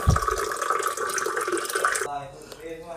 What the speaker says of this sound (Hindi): देख लीजिए फिलअप हो गया पानी हमारा